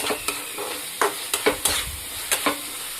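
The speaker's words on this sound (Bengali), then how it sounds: "এখানে আমার চিকেনটা এভাবে কষছে" Chicken being stirred and fried in spices, sharp scraping strokes in an irregular rhythm over a steady close sizzle, with no talking.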